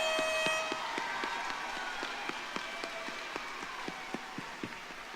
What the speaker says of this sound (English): Everybody should be clapping.